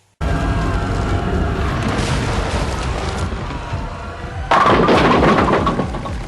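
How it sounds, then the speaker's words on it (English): Explosions tear through the Vatican in the disaster movie 2012: a sustained loud rumbling roar of destruction that swells into a heavier, brighter crashing blast near the end, with no talking. "you'll love the sequence where the Vatican is destroyed"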